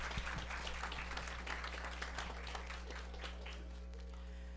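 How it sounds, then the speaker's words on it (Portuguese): A seated audience at a university communication event (Meetcom 2018) gives a steady round of applause for a student, dense, even clapping heard at a distance and fairly faint throughout, with a low steady hum beneath. "Palmas para ele, gente, palmas para ele."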